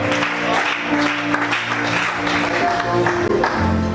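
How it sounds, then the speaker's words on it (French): A church congregation applauding during a service, loud, steady clapping from a crowd with sustained musical tones beneath it. "Acclamez ça."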